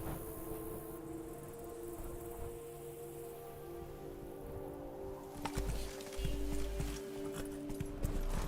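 Roach, a horse in The Witcher 3: Blood and Wine, gallops with steady hoofbeats under a low musical ambience, with heavier thumping near the end.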